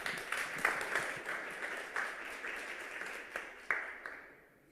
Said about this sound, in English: and big applause, please